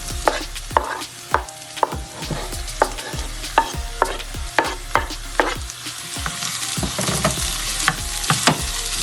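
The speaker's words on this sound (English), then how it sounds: "After 2 minutes of frying the vegetables, I'm now going to add my onions, green onions, and tomatoes." Vegetables with onions, green onions and tomatoes fry in a pan for a beef patty filling, a steady loud sizzle broken by repeated sharp clicks of a utensil stirring against the pan, no voices.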